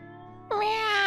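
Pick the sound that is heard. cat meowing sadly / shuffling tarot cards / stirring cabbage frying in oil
cat meowing sadly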